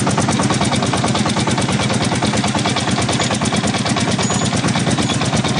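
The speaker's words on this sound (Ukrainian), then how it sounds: "Зараз заглушу трактора" A Shifeng 244 tractor engine runs steadily close by on a trip to an autumn forest for firewood, its rapid, even diesel knocking loud and unbroken, with no voices.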